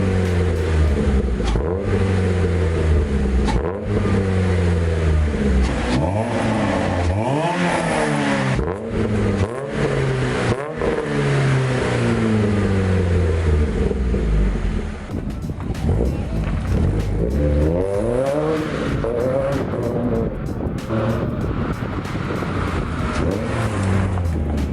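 A Mazda Miata with an EcoTec engine swap and a Yonaka catback exhaust revs repeatedly, engine pitch sweeping up and falling back in loud, close bursts, with a voice speaking over it at times.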